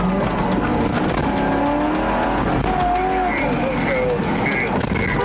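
A stolen police car speeds away at full throttle, its engine roaring loud and continuous with tire noise under a layer of shouting voices and talk throughout.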